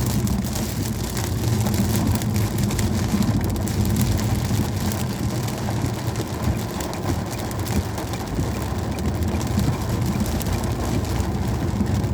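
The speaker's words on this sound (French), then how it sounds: "L'orage il est à face. Là, je suis pile poil dans l'orage." Steady heavy rain during a thunderstorm in Normandy, a dense continuous wash of drops heard up close without letup, with no distinct thunderclap standing out.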